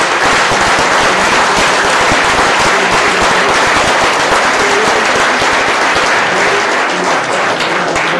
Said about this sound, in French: c'est eux qu'on va applaudir le plus fort